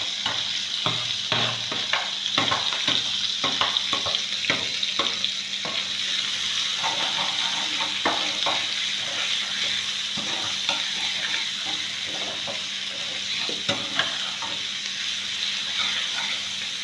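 Chopped onion sizzles steadily in a hot pan while a utensil scrapes and stirs it in frequent irregular strokes, close and fairly loud, with no one talking.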